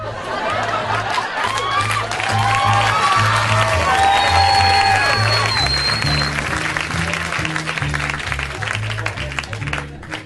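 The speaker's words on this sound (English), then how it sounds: "You weren't even clapping at me, you were clapping at something he just did." A live stand-up comedy audience breaks into sustained clapping mixed with laughter and cheering, filling the room at a steady, loud level for several seconds before easing off, with music underneath.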